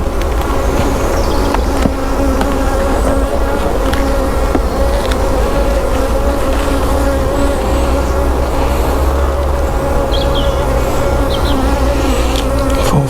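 Buckfast honey bees at an open hive hum steadily and close, a dense continuous buzz that holds level throughout with a faint low rumble of a passing vehicle underneath.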